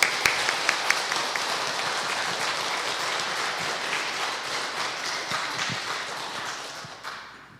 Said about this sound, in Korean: 신부님을 큰 박수로 모시겠습니다.